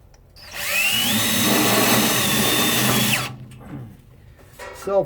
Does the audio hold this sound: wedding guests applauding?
no